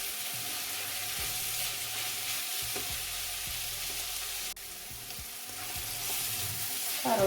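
Grated carrots frying with chicken in a pan, giving a loud, steady sizzle with periodic scraping stir strokes and a brief clatter near the end.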